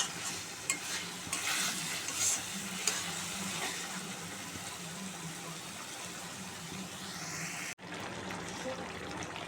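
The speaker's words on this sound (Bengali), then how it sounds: "এঁচড়টা দিয়ে আমি ভালো করে কষিয়ে নিয়েছি।" Boiled jackfruit stir-fried with spices in a pan: a continuous loud sizzle with soft scraping stirs, then a brief cut before the frying carries on.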